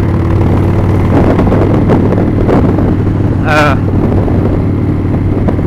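A 1997 Harley-Davidson Springer Softail rumbles steadily with a deep, low engine drone while riding, mixed with wind noise and a brief high chirp partway through.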